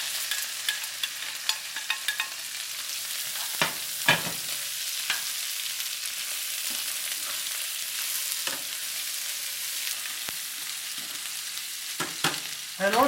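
Ginger sizzles steadily in hot oil in a wok for salt and pepper shrimp, a bright continuous frying hiss with a few sharper spatters and stirring knocks, no talk.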